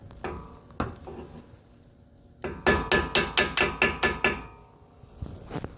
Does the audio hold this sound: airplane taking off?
no